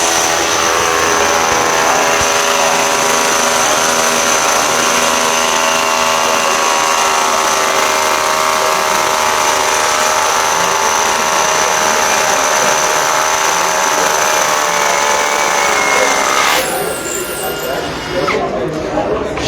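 WORX slammer drill running its hammer action, a loud, steady, continuous mechanical whine and rattle that holds for about seventeen seconds, then cuts out abruptly into quieter background noise.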